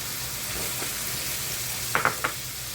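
Half a small onion fries in a pan with a steady close sizzle, broken near the end by a few quick clinks and taps, with no voices.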